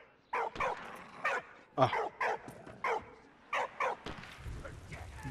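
A small dog barks in a steady series of short, clear woofs, about ten in all, in the video game Valiant Hearts (Soldats Inconnus), with a brief spoken exclamation partway through.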